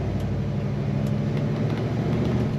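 A 1967 Chevrolet Chevelle SS engine idles steadily with a low, even rumble and a faint high whine, no voices over it.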